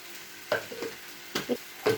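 Raw mango pieces and curry leaves frying in a pan, with a few short sizzling bursts and stirring scrapes spaced out over about two seconds, close and moderately quiet with no talking.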